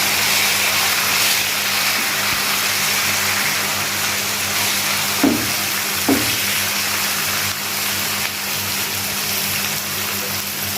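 Onions already fried brown sizzle in a pan as finely chopped tomatoes go in, making a loud, steady frying hiss with two brief knocks partway through.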